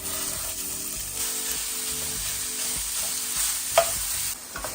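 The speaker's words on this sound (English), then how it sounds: "I'm going to cook this sausage until it is nice and brown." Pound of breakfast sausage frying and being stirred in a skillet with bacon grease, a steady close sizzle with scraping stir strokes throughout and a brief louder clatter near the end.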